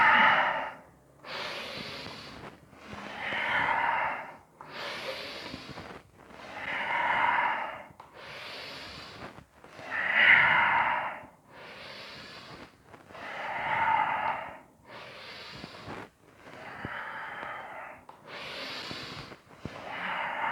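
Slow, deep yoga breathing, about a dozen long audible breaths in a steady rhythm, each rising and fading with clear gaps between, close and breathy with no talking.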